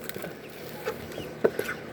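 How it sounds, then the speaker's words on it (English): Several chickens, hens kept indoors at a house, give short soft clucks at feeding time, scattered across a quiet room with a couple of louder calls near the end. "Chickens in the house."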